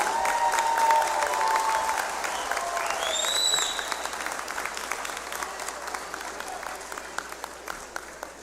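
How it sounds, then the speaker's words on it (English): Crowd at a law school hooding ceremony applauds graduates' families, loud at first with some cheering and whistles, then thinning into scattered individual claps as the applause dies down. "you give them a round of applause for doing so much for you"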